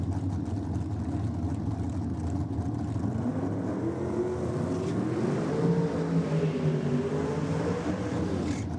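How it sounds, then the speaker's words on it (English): Drag racing cars doing burnouts at a championship drag racing event, a steady loud engine roar with rising and falling revving tones, distant and continuous without talk. "Good strong burnouts from the ladies out there"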